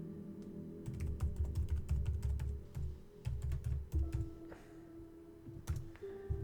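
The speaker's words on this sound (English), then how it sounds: "just trying to type." Someone types on a computer keyboard with quick, close clicking taps that come in bursts with short pauses. The sound is fairly quiet, and no one speaks.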